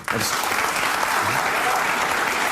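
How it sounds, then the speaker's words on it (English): A studio audience bursts into sustained, dense applause that starts abruptly and holds steady, loud and close. Voices blend faintly into the clapping. "you can tell he's visibly disgusted by the applause from his audience there"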